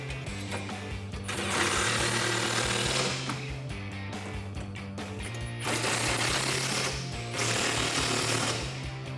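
Side step bar bolts on a 2004-2008 Ford F150 are driven tight with a 19mm socket on a loud impact tool, rattling in several long hammering bursts with a steady hum between them.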